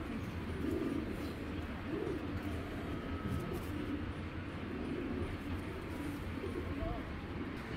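Soft pigeon coos come and go beneath a constant hum of ambient noise, with faint voices in the background where a fancier shows off his pigeons.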